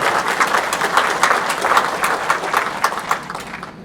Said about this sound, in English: please give a round of applause to the board and to Brian Lawrence